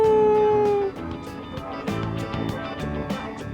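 A dog howls with a sustained, wavering tone in Persona 3 Reload, fading after about a second into quieter game music and small sounds.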